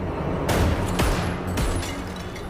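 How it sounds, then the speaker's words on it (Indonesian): Gunshots ring out in the film Don't Breathe 2, a few sharp loud cracks in quick succession over a dense, rumbling action soundtrack with no speech. "si Raylan yang kesal menembak si dokter"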